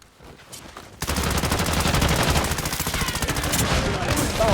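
Automatic fire from an M13B rifle in Call of Duty Black Ops: after a quiet second, a loud, sustained burst of rapid, evenly spaced shots runs without a break to the end.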